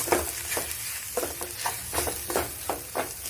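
A spatula stirs a vegetable mixture with ground cumin and salt in a frying pan, giving rhythmic scraping strokes about twice a second over a steady sizzle, close and clear with no talking.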